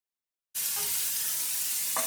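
Potatoes fry in a pan in a home mess kitchen, giving a steady broadband sizzle that starts abruptly and holds evenly, with faint utensil stirring and a brief clink near the end.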